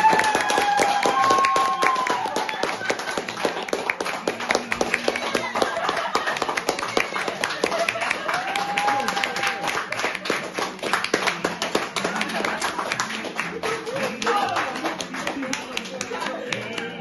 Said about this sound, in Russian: Разогрейте ладошки, похлопайте.